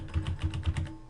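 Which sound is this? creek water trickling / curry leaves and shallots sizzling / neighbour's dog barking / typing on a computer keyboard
typing on a computer keyboard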